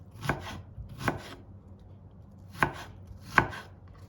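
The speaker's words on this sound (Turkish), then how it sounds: "Şimdi soğanımı doğruyorum." Four crisp knife chops through an onion onto a board, unevenly spaced, close and fairly quiet, with soft crunching between strikes.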